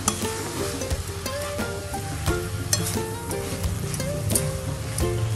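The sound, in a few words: stirring and sautéing grated fresh coconut mixture for barfi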